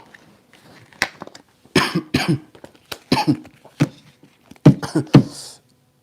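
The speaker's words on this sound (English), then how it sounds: "This cough is staying." A series of harsh, wet coughs in several bursts, some single and some doubled, loud and close with short quiet gaps between them.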